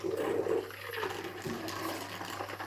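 Water rushes and gurgles through the milk outlet of a Silvercrest SEM 1050 espresso machine as it is flushed, a steady close hissing stream that eases slightly partway through.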